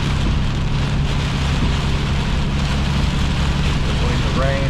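Steady rain drums on a vehicle during afternoon rush-hour driving, a loud continuous wash over a low engine and road rumble from inside the car.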